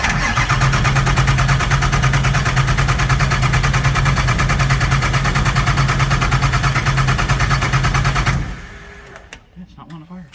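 A 6.0 Powerstroke diesel engine swapped into a Mustang cranks steadily without firing, a loud, rhythmic starter churn lasting about eight seconds before cutting off abruptly.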